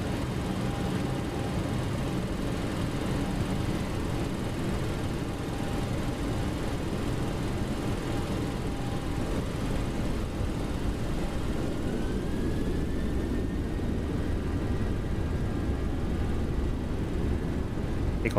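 Aircraft engine at takeoff power in the flight sim X-Plane 12, a steady loud droning roar that holds constant throughout with a faint rising tone partway, no talking.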